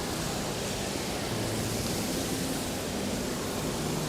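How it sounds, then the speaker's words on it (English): An indoor waterfall inside the ICONSIAM shopping mall in Bangkok gives off a constant, dense rushing hiss of falling water, loud and unbroken throughout, with no distinct voices. "That's a waterfall right there."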